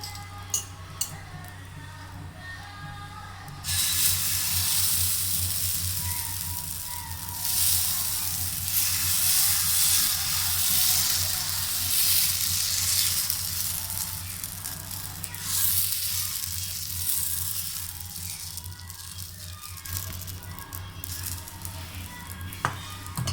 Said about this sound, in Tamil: தோசை மாவை வந்து நம்ம இப்போ இதில் ஊற்ற போகிறோம்